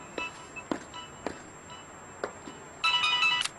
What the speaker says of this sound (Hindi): निहाल का फोन है